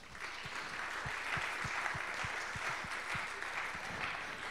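An audience at an evening talk on technology applauds its speakers, a sustained even spatter of many hands clapping at moderate volume from a seated crowd.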